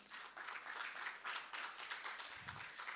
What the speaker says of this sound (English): If we can please have a warm round of applause for Karishma.